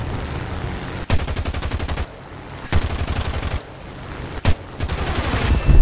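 Rapid bursts of heavy automatic cannon fire from six 20 mm cannons on a So.8000 Narval aircraft in a video game, several long volleys separated by brief pauses, loud and continuous over a steady engine drone.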